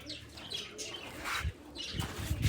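Pigeon wings flap in quick bursts close by, a rustling flutter that rises and falls against a quiet background, with no talking.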